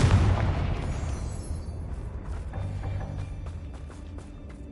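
A Confringo blasting spell explodes in the Hogwarts Legacy game on PS5, a loud booming blast that decays into a long rumbling tail with scattered debris crackles.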